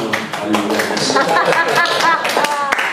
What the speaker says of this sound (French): Tu peux finir d'applaudir, ma soeur?